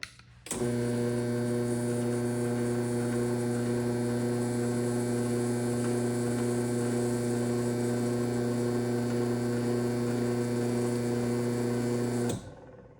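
A Chamberlain garage door opener running for about twelve seconds, a steady loud motor hum with strong tonal drone starting and stopping abruptly, no voices.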